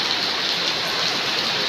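Summer rain falling steadily through a windy spell, a dense, even hiss of drops on surfaces that stays loud and constant throughout with no voices.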